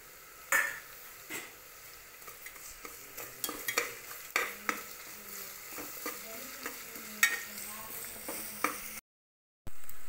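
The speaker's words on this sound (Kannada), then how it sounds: "ಉಪ್ಪು ಅರಿಶಿನ ಪುಡಿ ಹಾಕಾದ್ಮೇಲೆ ಶುಂಠಿ ಬೆಳ್ಳುಳ್ಳಿ ಪೇಸ್ಟ್ ಹಾಕ್ಕೋತೀನಿ." Coarsely pulsed ginger garlic paste fries and sizzles softly in a pan after salt and turmeric powder, with a spoon scraping and stirring in irregular strokes, fairly close and quiet, no talking.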